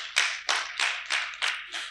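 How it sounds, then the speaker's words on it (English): Clapping at a university leadership and development conference, about six distinct, rhythmic claps in quick succession, close and crisp, with nothing else around them. "Let's applaud him again."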